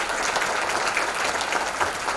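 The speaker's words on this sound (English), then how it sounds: "Ben, a little round of applause." An audience at a wine sales symposium applauds after a keynote, with a steady, dense wash of many hands clapping together throughout, loud and without talk.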